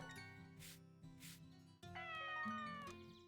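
A cat meows several times in a quiet setting under soft background music. The cries are drawn out and rise in pitch, sounding fairly close but faint.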